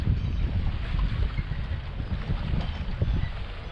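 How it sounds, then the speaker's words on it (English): Steady wind gusting across an overcast lake, heard from aboard a bass boat, a continuous loud rumbling roar with buffeting low noise and faint water wash throughout. "The wind's really blowing, it's overcast."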